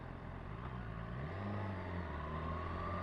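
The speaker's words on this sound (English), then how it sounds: "it makes a lovely noise when you wind it on. But that's all induction noise." A 2017 BMW S1000RR motorcycle engine revs up, with steady induction noise rising in pitch as the throttle is wound on, a smooth continuous whir and rumble heard from the rider's position.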